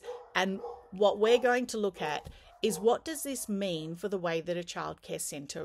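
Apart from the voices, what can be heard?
dog barking in the background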